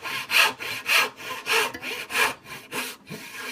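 A Rob Cosman dovetail saw cuts into pine wood with about seven even, rhythmic rasping push strokes. The sound is close and clear, with no talk.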